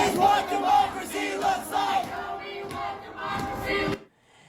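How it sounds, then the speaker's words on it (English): A crowd at the Nebraska Capitol rallying for bodily autonomy shouts and chants in rhythmic bursts, loud voices echoing indoors before cutting off abruptly near the end. "this is the loudest and boldest group of people that I have ever seen in that building"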